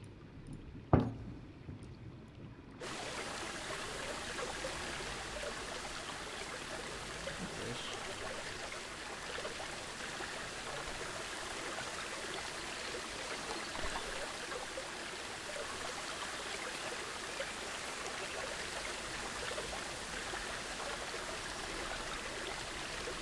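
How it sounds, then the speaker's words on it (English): Steady rushing water pours from a hidden waterfall cut into rock in the Planet Zoo video game, a continuous loud wash that starts after a brief quiet moment and runs unbroken to the end. "So we have some hidden waterfall, like there's this cut in the rock and the water's being pumped out of"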